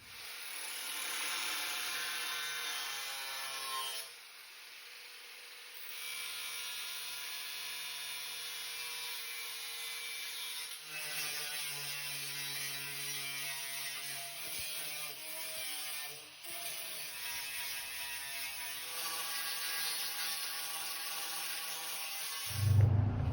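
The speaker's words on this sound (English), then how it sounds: "That's the initial sanding and grinding." Power sanding and grinding on a welded steel end table frame with the weld scale being cleaned off: a steady, loud, high whine that dips and resumes several times, with a brief louder burst at the end.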